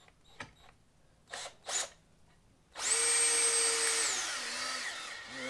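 A power drill drives a long screw into wood on a flag pole holder mounted to a brick post outdoors: a few short bursts first, then a loud, steady whine that runs several seconds and drops in pitch near the end.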